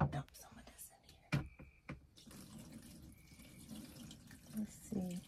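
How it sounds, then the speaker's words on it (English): Water dumped by hand into a portable washing machine tub, splashing and trickling after a few sharp knocks, with low murmured speech at the end. "I need to fill it with some water. So I have some here. I just dump some of this in here."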